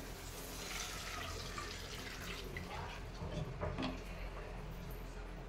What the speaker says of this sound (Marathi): पाणी घालून घ्यायचे.